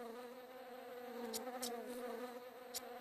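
A bumblebee buzzes as a sound effect in the Dr. Seuss ABC alphabet video game, a soft steady drone with a few brief sharp clicks, heard alone without speech.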